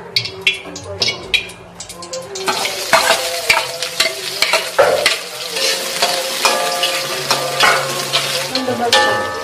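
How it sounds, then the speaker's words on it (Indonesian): Energetic stir-frying of shallots, garlic and chili in a hot pan, with a steady sizzle and repeated scraping and clanking of a utensil against the wok throughout. "Sekarang langsung ditumis."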